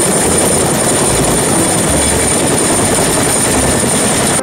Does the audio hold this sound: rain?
no